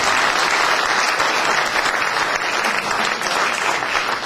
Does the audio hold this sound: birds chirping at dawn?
no